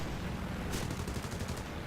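An MB.152 C1 fighter firing its 20 mm cannon in War Thunder, a quick rapid burst of about eight sharp shots cutting through a constant loud engine drone.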